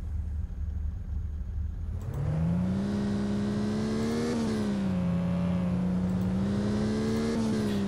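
A car engine in a video game drag race rises sharply into a loud, sustained rev, wavering as it holds near the top of the range, with a quieter whir before it kicks in.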